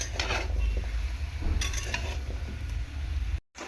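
Potato and pumpkin curry is stirred in a pan, with continuous close scraping and soft clatter of a spoon against the cookware, a faint sizzle beneath, and a short silent gap near the end.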